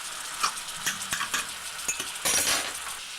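Apple pieces frying in a pan for an apple crumble, a soft sizzle broken by several quick clinks and scrapes of a utensil against the pan, close and brief.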